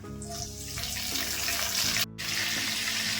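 Mustard seeds and cumin crackle and sizzle in hot oil in a pan, a steady close frying hiss with a brief cut near the end and no talk.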